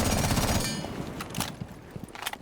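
F2 assault rifle firing in Rainbow Six Siege: a dense, rapid burst of shots up close, then scattered sharper cracks and impacts trailing off, with no talking.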